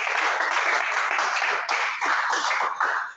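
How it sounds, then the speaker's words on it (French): Audience applause at a Toastmasters preparatory session in Brazzaville, a steady wash of many hands clapping throughout at moderate loudness, with a brief dip and a few uneven bursts near the end. "On peut applaudir encore pour nous tous."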